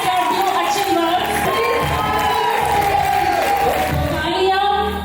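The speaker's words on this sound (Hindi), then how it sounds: "A big round of applause for three of us" A large audience at an awards night cheers and whoops loudly and without a break, a thick wall of crowd noise that fades slightly at the end.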